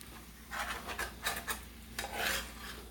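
Ground turkey stirred in a hot pan for turkey spaghetti, a scraping, rasping utensil sound in several bursts over a steady low sizzle, fairly close and moderate in level, with no talking.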